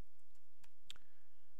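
A few sharp, quiet clicks from a computer keyboard or mouse while typing into a search bar, sparse and isolated against a near-silent background.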